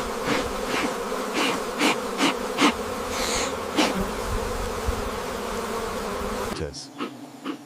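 Wild honey bees swarming around a hidden forest hive, dense close buzzing with individual insects droning past the microphone in repeated swells, until the sound cuts off abruptly near the end.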